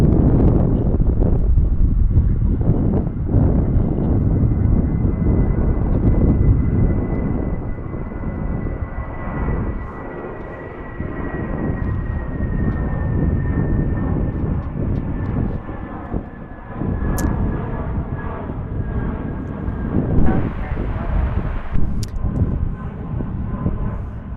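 Airliners departing runway 36 at Dallas Fort Worth Airport, a loud sustained jet roar that swells and eases over the span, heard from a distance with a steady broadband rush and a slowly sliding engine whine.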